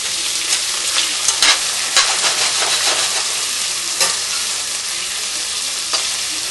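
Onion rings fry loudly in a pan on a stove, a dense close sizzle with crackling splatter bursts and a few stirring scrapes, no voices.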